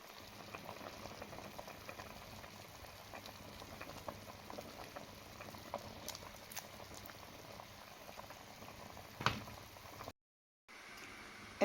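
Continuous soft bubbling and sizzling from vegetables simmering in a covered pot, low and steady, ending with a brief silence and a clunk.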